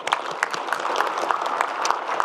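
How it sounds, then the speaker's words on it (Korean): Audience applause at a citizens' forum with the South Korean president, dense steady clapping from a crowd throughout the short stretch, fairly loud and close with no talk over it. "박수 한번 주세요."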